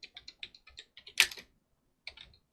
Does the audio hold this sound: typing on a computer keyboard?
yes